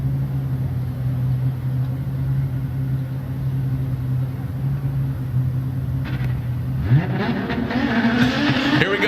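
Drift car engine during a Formula Drift qualifying run in New Jersey, a steady low rumble from a distance that rises sharply into a loud revving howl near the end, with no talk.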